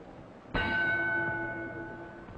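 A boxing ring bell struck once to start round four of a heavyweight bout, ringing out loud and clear, then sustaining a bright metallic tone that slowly decays over crowd murmur.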